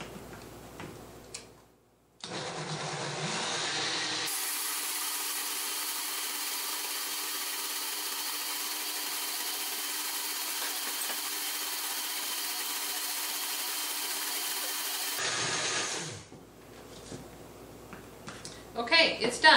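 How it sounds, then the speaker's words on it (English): A food processor blends hummus, its motor starting with a short burst and then running loud and steady for about ten seconds before stopping, with brief handling sounds at either end. "So I'm going to whiz this up here, and it's just going to take a minute."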